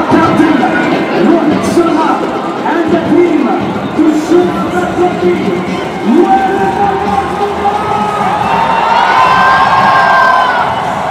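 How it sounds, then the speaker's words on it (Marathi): A vast crowd packs Marine Drive in Mumbai for Team India's victory rally, cheering and shouting in a dense, loud roar with rhythmic chanting and whoops; a whistle-like tone rises near the end. "मरीन ड्राईव्हवर लाखोंचा जनसागर उसळलेला आहे"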